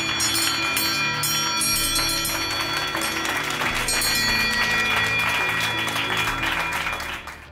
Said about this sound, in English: when finished treatment, patient ringing the bell